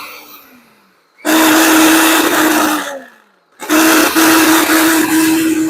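A kitchen blender switches on at high speed, roaring loudly for a couple of seconds, winding down, then starting again with the same steady, harsh whir close up.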